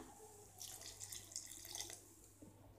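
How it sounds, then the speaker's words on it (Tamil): Water poured into a ground mixture of coconut, roasted chana dal, coriander seeds and dried red chillies for sambar, a steady faint trickle and splash lasting a couple of seconds. "சேர்த்துட்டு கொஞ்சம் தண்ணி விட்டுக்கலாம்."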